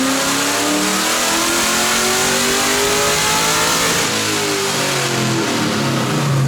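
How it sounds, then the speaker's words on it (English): A tuned Mazda Miata making about 500 wheel horsepower revs through a dual 3-inch titanium exhaust, a loud, continuous engine roar that rises and falls in pitch, heard alone and close up. "dual 3-inch titanium exhaust to really wake this thing up and help it breathe"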